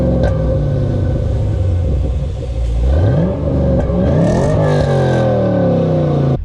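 A 2010-2015 Chevrolet Camaro SS V8 engine starts and settles into a deep, loud rumbling idle, with a brief rev rising in pitch partway through.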